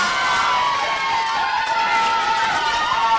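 A crowd at an elite rugby match cheers in a steady, sustained roar, with girls' voices audible in the mix and continuous crowd noise throughout.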